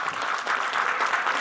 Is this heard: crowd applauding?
yes